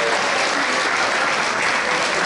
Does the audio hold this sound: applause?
yes